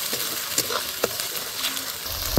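Spice paste frying in oil in a pan for jackfruit kofta curry, a steady close sizzle broken by several sharp scraping stirs and clinks, with no talking.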